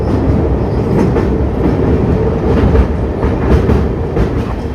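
A train arriving at Sattur railway station on the Tirunelveli to Mangaluru Express route, rumbling along the rails with steady clattering of wheels, loud and close, a continuous low roar without any voices.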